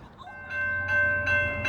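A westbound CSX freight train passes at night in Ashland: a low rumble with steady tonal notes swelling over it in short pulses, close and fairly loud, and no voices.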